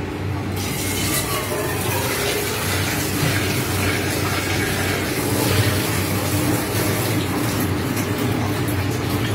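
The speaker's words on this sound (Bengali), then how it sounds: "ওখানে আরেকটু জল দিয়ে দেবো" Water runs from the tap of an LG water purifier in a steady, continuous pour that fills the whole stretch at an even level, with no talk.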